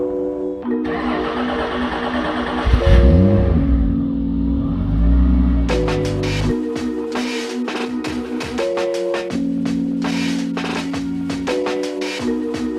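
A 230 hp V6-swapped Mazda Miata revs and pulls away nearby, its loud engine note rising and dropping in pitch through several gear changes, with a deep rumble beneath.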